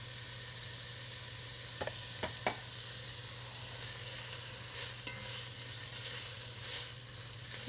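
Garlic with a little salt sweating gently in a saucepan, a quiet, steady sizzle under a low hum, with a few sharp utensil clicks and soft stirring scrapes near the start.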